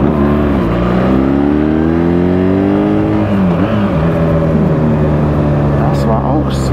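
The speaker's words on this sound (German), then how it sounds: "Das war echt ein kleiner Wheelie. Einfach durch so ans Gas ziehen." A BMW R1300GS motorcycle accelerating hard, throttle snapped open enough to lift a small wheelie, its engine note rising in pitch then dropping as it shifts, loud and close under wind rush.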